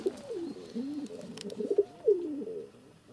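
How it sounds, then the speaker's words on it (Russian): Pigeons coo in soft, low, rolling calls, several overlapping phrases close by with a faint hiss in the background. "Голуби, слышишь, как воркуют?"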